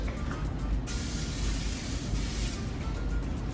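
Degreaser is sprayed onto a car panel with a steady, hissing spray that stops briefly and then resumes, close to the microphone over low background rumble.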